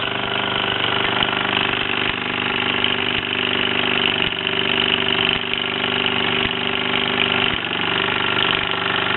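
A Mamod SE2 toy steam engine runs continuously, a steady mechanical whir with a light rattle as it shifts on its base while driving a toy workshop line shaft.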